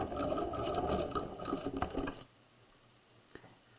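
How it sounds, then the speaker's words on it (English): A sewing machine runs in a fast continuous mechanical patter while back stitching across a jacket collar facing, then stops abruptly, leaving near silence with one small click. "We're going to back stitch, sew across"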